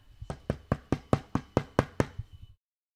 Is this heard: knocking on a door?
yes